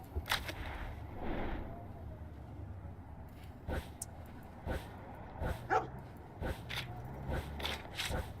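Several dogs bark and yip in short, scattered bursts in the Hitman GO video game, set against a steady low game background.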